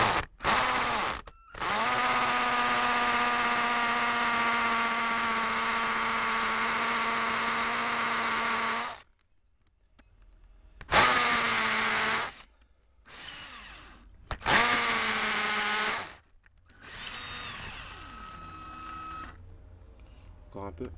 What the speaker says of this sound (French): Donc il faut percer ici.